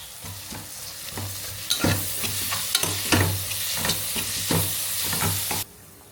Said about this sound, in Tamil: ஆனியன் ஆஃப் குக்காக இருக்கும் போதே நான் இஞ்சி பூண்டு பேஸ்ட் ஆட் பண்ணிக்கிறேன்.